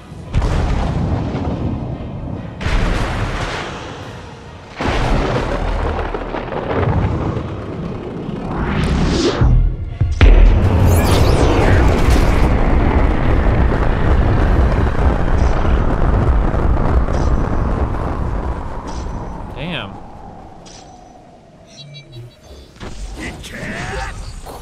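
Ramuh's lightning summon attack in Final Fantasy XV, a long, loud rolling barrage of booming thunderous blasts and crackling bursts that swell and sustain before gradually fading away, with a descending whine near the end.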